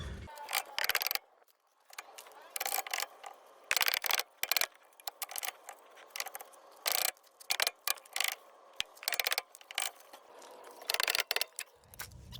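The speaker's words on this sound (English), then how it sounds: "we're just going to take a rubber mallet and start hitting it and slowly rotating it around to get it off" A rubber mallet strikes a rear brake rotor on a 2010-2017 Chevy Equinox/GMC Terrain in repeated sharp knocks, irregularly spaced and fairly close, over a quiet workshop background.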